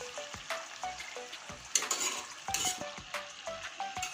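Chicken stir-fried in a pan for masala chicken kosha, a steady sizzle broken by repeated scraping stirs and clinks of the spatula against the pan, close and moderately loud with no talking.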